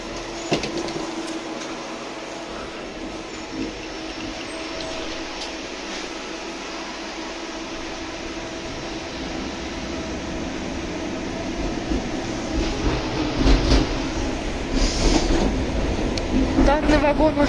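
Riding inside a Tatra tram car in Barnaul that recently went through a major rebuild: a continuous rolling rumble and hum that grows busier and louder toward the end, with a voice talking over it.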